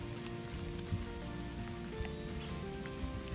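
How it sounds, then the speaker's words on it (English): Steady rain falls outdoors on a cold day near a wooded pig farm, a dense, even patter with occasional louder drops, continuous and fairly close, with no talking. "If you can hear the rain, that's the rain you're hearing."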